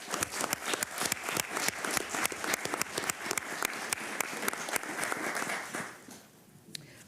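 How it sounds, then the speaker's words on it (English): An audience at a county commissioners meeting gives a round of applause, many individual claps sounding distinctly and fairly close for about six seconds before fading to quiet. "Let's have a round of applause."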